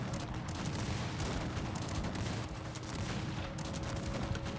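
Massed cannon and artillery fire in the real-time strategy game Cossacks 3, a dense, continuous roar of overlapping booms and musket crackle, loud and unbroken with no talking.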